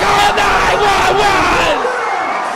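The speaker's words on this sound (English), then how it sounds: "This crowd at the arena's on their feet" Wrestling arena crowd at a ladder match on their feet, cheering and roaring loudly as a dense wall of voices that swells then eases off toward the end.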